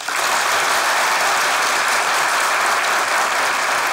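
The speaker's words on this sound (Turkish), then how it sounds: "Hele bir sade bir alkış duyayım bir" A studio audience at a Turkish comedy sketch show breaks into loud, dense, sustained applause, a continuous wash of clapping close and full throughout.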